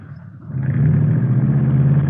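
A close hot rod engine with Mallory ignition, milled heads and twin Wakefields, rated at 120 horsepower, rises in a quick rev and then holds a loud, steady throbbing idle.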